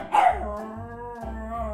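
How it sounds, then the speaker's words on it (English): A dog gives one sharp bark followed by a lower lingering yelp-like tone, close and fairly loud, with no talking. "Dog."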